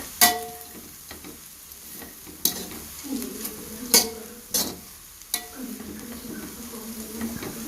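Prawn kottu roti being stirred as it fries in a pan: a steady sizzle broken by sharp metal clanks and scrapes of the utensil against the pan, coming every second or so.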